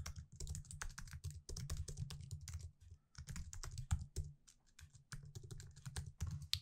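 Rapid typing on a computer keyboard while coding styles, with quick, irregular key clicks in bursts and short pauses, fairly close and quiet, with no voices.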